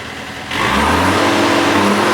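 A 2011 John Deere 1600 wide area mower engine jumps from idle to full throttle, a loud, close, steady roar with a whirring drone that holds after the sudden rise; no speech.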